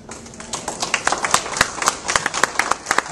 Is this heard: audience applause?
yes